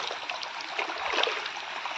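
Water pours steadily from a pipe into a village cattle trough, a continuous rushing, splashing flow heard close by.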